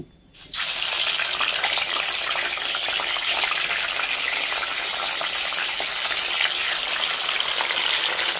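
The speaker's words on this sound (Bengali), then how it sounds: "এই দেখো মাছ ভাজা চলছে, এপিট এপিট করে ভালো করে ভেজে নিচ্ছে।" Pieces of catla fish frying in hot oil, a loud, constant close sizzle and crackle that starts abruptly and holds steady throughout, with no talk.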